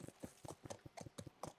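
In the video game The Last of Us Part I, a ridden horse's hooves clip-clop in a quick, regular rhythm, a soft, distinct patter of evenly spaced hoofbeats with nothing else heard.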